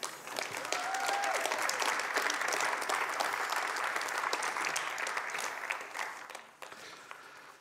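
Warm applause from a conference session audience, dense steady clapping that swells quickly, holds for several seconds and then tapers off.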